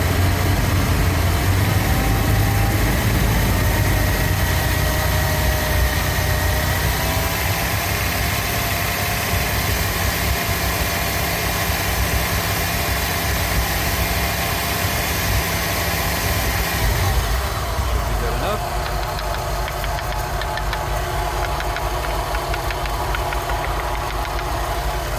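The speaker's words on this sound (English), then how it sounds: "Let's do the clearing again by running at 2000 RPM." A Rolls Royce Silver Shadow engine held at 2000 RPM during carburettor tuning runs as a steady, fairly loud hum, with its tone dropping partway through as the revs settle lower, and no talk over it.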